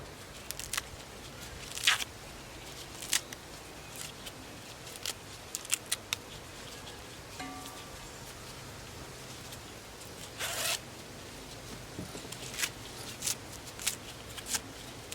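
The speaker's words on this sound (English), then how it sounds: "Tear kale into small pieces." Kale leaves are torn into small pieces by hand for sun-baked kale chips, giving scattered crisp ripping bursts at irregular intervals, close by against a quiet background.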